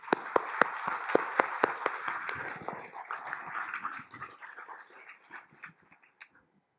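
An audience at a regional State of the Region address applauds. Sharp, distinct claps open the clapping, which softens into a thinner patter and tapers off to a few scattered claps before falling silent.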